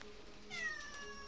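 A cat meows once, a short clear rising-and-falling call near the middle, fairly close but quiet over a soft room hiss, with no talking.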